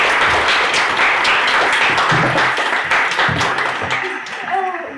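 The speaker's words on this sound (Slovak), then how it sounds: "Privítajme veľkým potleskom nášho prvého hostia, Vlka!" A studio audience claps loudly to welcome the first guest onto a Slovak stage show, a dense, sustained burst of applause with scattered sharper claps, heard without talk.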